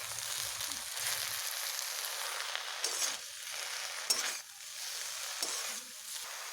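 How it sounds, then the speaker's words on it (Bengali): Arum leaves frying in oil in a pan, a soft steady sizzle with a few light clinks of a utensil stirring, fairly quiet and without talk. "এখানে আমি একটু আরও একটু তেল দিয়ে নিচ্ছি তেল দেওয়ার পরে এইভাবে আর একটু ভেজে নেব"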